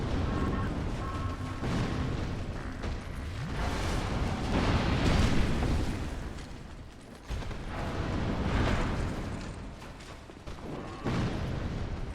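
Fire bombs burst during a boss-hunting video game, a dense run of rumbling blasts and crackling impacts that keeps swelling and fading over a loud, busy in-game mix with music, with no voice.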